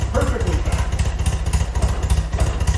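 A BMW R100RS motorcycle engine runs on choke, a loud, close, lumpy rumbling idle with steady pulsing firing throughout; a voice is faintly present under the engine.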